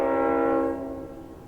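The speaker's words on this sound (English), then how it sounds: "there's the train in the background" A train horn sounds a sustained harmonic blast in the background near a timber-framing workshop, holding steady and then fading.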